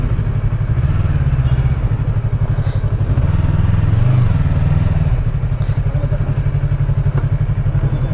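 A motorcycle rolls in close by, its mid-pitched engine running steadily with a rapid pulsing beat, easing slightly toward idle as it arrives at a petrol station forecourt.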